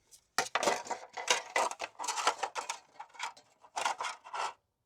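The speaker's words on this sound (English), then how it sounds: "And then you undo this windscreen." Metal Trangia alcohol stove windscreen undone and unfolded, giving a close run of clattering, scraping metallic rattles in quick bursts with brief pauses.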